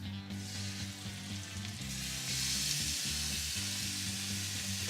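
Beef short ribs sear in hot oil with a steady, bright sizzle that swells midway, over a tonal hum in the room; no voices.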